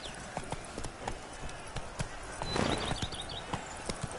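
Horse hooves clip-clop at a gallop in the video game Witcher 3, a steady rhythmic beat of fairly close, moderately loud impacts with a brief louder burst midway.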